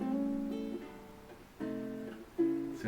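Mellow plucked ukulele notes and chords, strummed softly in a few separate phrases, close and unaccompanied.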